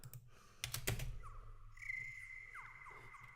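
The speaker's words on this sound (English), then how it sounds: "Yeah, some nice crickets." Crickets chirp in steady high-pitched trills after a brief burst of clicking, with a low hum underneath throughout.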